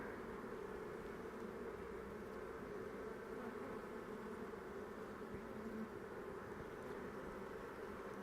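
Honey bees buzz at an open, queenless hive, a steady dense drone that stays even and unbroken throughout.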